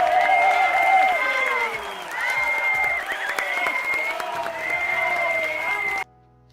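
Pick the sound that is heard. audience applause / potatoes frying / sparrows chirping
audience applause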